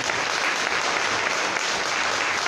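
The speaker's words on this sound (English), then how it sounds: "Why don't you give some applause?" Congregation applauding during a church service, dense continuous clapping that stays loud and even throughout.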